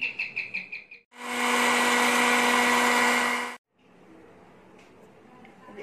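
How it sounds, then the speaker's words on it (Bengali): Puffed rice in a blender: a few quick rattling pulses, then a loud, close motor whir grinding for about two and a half seconds before cutting off, followed by quiet room noise. "আমি মুড়িগুলো ব্লেন্ড করে নেব"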